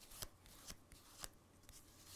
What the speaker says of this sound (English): I'm going to give them a, a shuffle into the pack